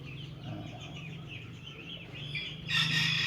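A chicken, sick with a snoring respiratory illness, makes repeated soft clucking and warbling calls up close, with a sharper, louder rustle or cry at the end.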